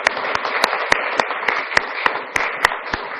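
Applause at a council meeting: a roomful of people clapping steadily for about three seconds, with a few sharper, louder claps standing out near the microphone.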